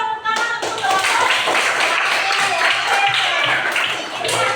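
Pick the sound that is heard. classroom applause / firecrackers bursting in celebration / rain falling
classroom applause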